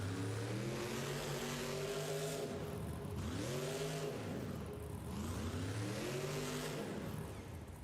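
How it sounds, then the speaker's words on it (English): Race truck engines rev at a stadium speedway event, loud and continuous, rising and falling in repeated waves of acceleration with a steady background roar. "Some of these trucks having some new engines."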